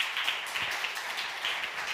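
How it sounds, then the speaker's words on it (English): Applause from a conference audience greeting Circle's Dante Disparte as he takes the stage, a steady dense patter of many hands clapping at moderate volume, filling the whole stretch without voices on top. "I would love you all to give this man a round of applause"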